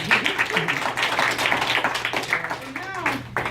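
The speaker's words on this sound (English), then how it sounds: "Everybody give Crystal a round of applause." A room of listeners claps for a woman named Crystal at a speaking event, a steady patter of hand claps mixed with voices and cheers throughout.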